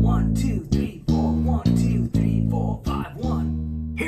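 Bass ostinato of two bars in 4/4 followed by a bar in 5/4, played slowly as a demonstration: sustained low notes struck in a steady, repeating pulse, each note ringing until the next, loud and alone with no talk.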